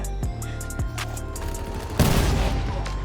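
Gunfire rings out in a shooter video game: a couple of sharp shots early on, then a dense burst of rapid fire in the second half, loud and close, with no voices.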